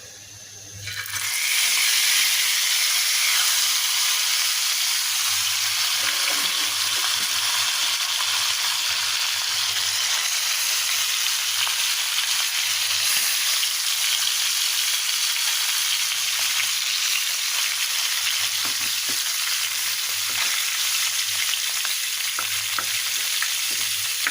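Kalibaus fish dropped into hot mustard oil, bursting into a loud, close, unbroken hiss and crackle of frying that holds steady for the whole stretch with a low hum beneath.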